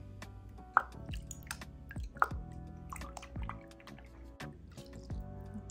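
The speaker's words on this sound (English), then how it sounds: "This is a little of the hypoallergenic laundry detergent we use." Hypoallergenic liquid laundry detergent is poured into water for hand-washing a silk scarf, making a quiet run of close, wet drips and gloppy plops with two sharper splashes.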